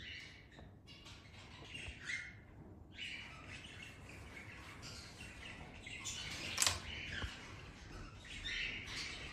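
Birds in aviaries at feeding time give repeated chirps and squawks, some near and some farther off, with one sharp loud call partway through over a soft background hiss.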